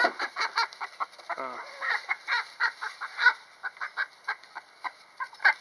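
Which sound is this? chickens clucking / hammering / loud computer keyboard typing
chickens clucking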